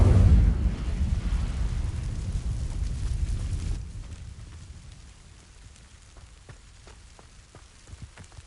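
Incendio fire spell cast in the video game Hogwarts Legacy: a loud roaring whoosh of flame for about four seconds, then fading into quieter crackles and small pops.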